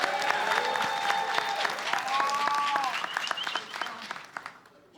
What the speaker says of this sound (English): Let's give a round of applause for Jay Quan